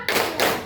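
Children clapping in time during a counting clapping game in a classroom lesson, two quick close claps in under a second.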